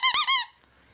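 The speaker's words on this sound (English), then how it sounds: "he gave me a cupcake, but it squeaks. So it's a doggy toy or something like that" A squeaky cupcake-shaped dog toy gives three quick, loud, high squeaks in a row up close, then falls silent.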